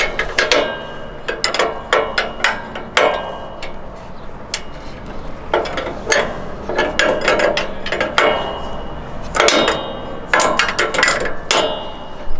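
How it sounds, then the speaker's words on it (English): Wrench working a lock nut on the linkage of a MacDon FD2 series combine header, close metallic ratcheting clicks and sharp clanks in irregular bursts, with no voices. "we need to loosen up this lock nut"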